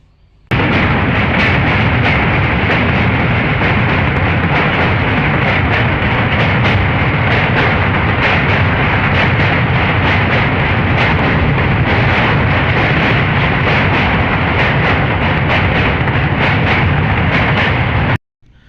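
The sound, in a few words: train crossing the Lalon Shah bridge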